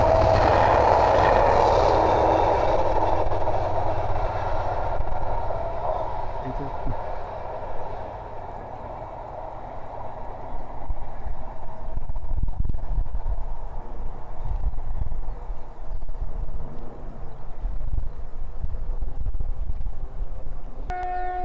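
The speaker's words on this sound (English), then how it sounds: "Okay, we've got another freight train going through." Freight train hauled by locomotive 70805 passing Langford on the East Coast Main Line, a loud close rumble and engine roar that fades away, then a lower rolling clatter of wagons continuing steadily.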